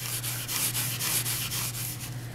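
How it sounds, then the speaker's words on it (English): The wooden floor of a radio guitar amp cabinet is sanded by hand with a steady back-and-forth rasp, quick even strokes close up under a low constant hum. "Sand the floor."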